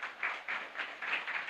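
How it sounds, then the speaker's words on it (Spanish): A church congregation at a chapel Mass claps in a brief, fairly soft burst of mixed hand claps with a pulsing rhythm, and no talk over it. "Fuerte aplauso para nuestra comunidad."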